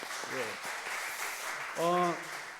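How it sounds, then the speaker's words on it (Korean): Church congregation applauding during a mission dedication worship service in Sacheon, Korea: a steady, moderately loud wash of clapping, with a voice rising briefly over it. "이럴 때는 박수로 하나님께 영광을 돌려야 되거든요."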